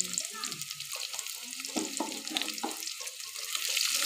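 Chopped onions frying in a pan after garlic, a continuous close hiss and crackle of hot oil with occasional stirring scrapes and clatters breaking through the sizzle.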